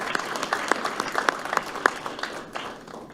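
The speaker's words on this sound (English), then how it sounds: "Let's give them all a nice round of applause." An audience at a 2023 oath of office ceremony claps in a moderate round of applause, with individual claps standing out near the front before the sound tapers off.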